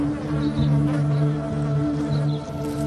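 Bees buzzing in a steady, close drone with a low hum underneath, continuous and fairly loud throughout, set against the threat of giant hornets.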